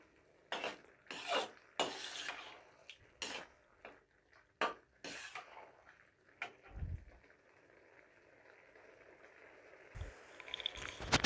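Carrot halwa is roasted in ghee on a low flame while being stirred, heard as intermittent clinks and scrapes of a spoon against the pan, separated by quiet gaps, with no talking.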